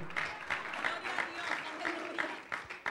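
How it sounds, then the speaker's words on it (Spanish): A church audience claps in a steady, rhythmic burst of applause, the claps landing in even beats with a voice faintly audible underneath. "Esta es la parte que usted aplaude."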